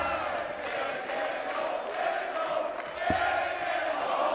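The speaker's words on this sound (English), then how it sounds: "Crowd are playing their part now" Darts crowd at the 2019 Dutch Darts Masters cheering and chanting in a steady roar, a dense sustained wall of voices with a brief thud partway through.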